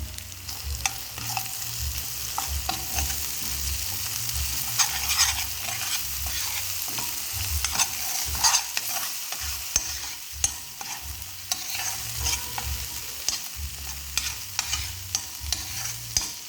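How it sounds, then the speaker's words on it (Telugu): Okra masala curry stirred and frying in a pan after salt and chili powder go in, with steady close sizzling under repeated scraping strokes of the spoon, no voices. "టేస్ట్కి తగినంత సాల్ట్ వేసుకొని ఒకసారి అయితే కలుపుకుందాము."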